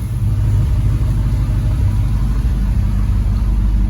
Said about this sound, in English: Sounds so much better when it starts now. That starter sounds good.